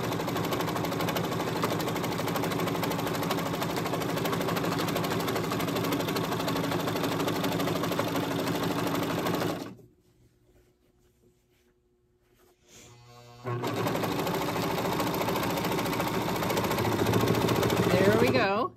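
A sewing machine stitches a sleeve onto a jersey knit kimono with a steady, fast mechanical hum, stopping for a few seconds in the middle before starting up again and running to the end.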